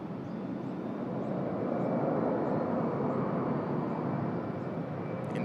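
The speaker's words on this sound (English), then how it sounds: "first passenger departure off runway 34 right this morning, Jetstar" A Jetstar passenger jet departs off runway 34 right at Sydney Airport, its engines a loud, steady broadband roar that holds evenly from start to finish with no talk over it.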